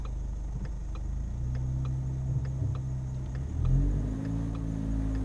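A manual transmission car pulls away on a hill as the clutch is let out, its engine rumbling low and steady, then rising in pitch as gas is added, heard close from inside the car.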